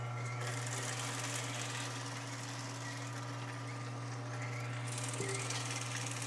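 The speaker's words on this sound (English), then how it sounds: "And you can see the kale being juiced." An Angel juicer runs steadily while juicing kale, a constant low motor hum with a grinding, whirring texture that holds at an even level throughout, with no talking.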